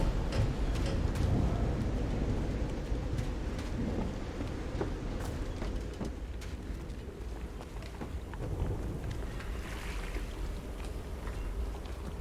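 Steady, dense storm ambience in the video game Call of the Sea, continuous rain-like rushing with low rumbling, broad and even throughout without distinct thunder claps.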